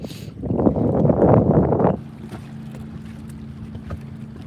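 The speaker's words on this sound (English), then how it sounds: "Can you guys hear that wind?" Wind rushes and buffets around a bass fishing boat on open water, a loud gusty roar for a couple of seconds that drops to a low steady hum and faint rustle.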